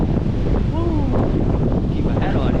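Strong wind buffets the microphone at Flagler Beach on Florida's east coast during Hurricane Idalia, a steady loud roar under a faint distant voice, with surf and ocean noise mixed in.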